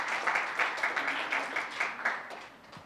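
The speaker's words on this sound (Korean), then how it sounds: "따뜻한 박수로 맞이해 주시기 바랍니다" Audience applause welcomes a minister to the stage at a formal event, a steady wash of clapping with rhythmic swells, moderately loud and filling the hall without speech.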